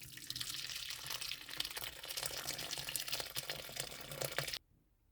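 Sour milk whey is poured slowly through a muslin-lined strainer into a cup below, a continuous quiet splashing trickle that runs steadily for over four seconds before stopping abruptly.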